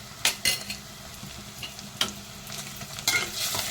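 Ginger garlic paste frying with onions in a pan for chicken curry, a steady sizzle broken by several sharp spoon scrapes and stirring clatters, close by, with no talking.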